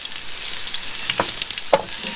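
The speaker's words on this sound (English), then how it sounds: "Oh, sizzle, sizzle." Steak searing in hot oil in a pan at a riverside campsite, a bright continuous hiss with scattered crackles and pops, close and moderately loud, a couple of sharper spits standing out near the end.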